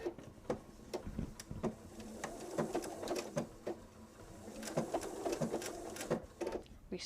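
A sewing machine stitching in quick bursts of rapid ticking and clicking, with short pauses between runs, fairly quiet and close, with no voices.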